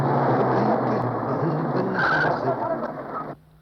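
A car skids to a halt in a Hindi action film scene, a loud, sustained tire screech and engine roar lasting about three seconds before cutting off abruptly.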